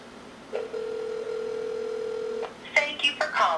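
A telephone line produces a long steady tone lasting about two seconds, followed by a short run of quick dialing beeps and clicks at close range.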